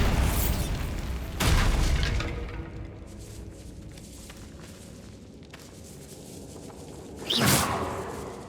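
A Bombarda blasting spell goes off in the catacombs of Hogwarts Legacy: a sharp burst near the start, a low rumbling tail, scattered small debris clatter, then a second bright whooshing blast near the end.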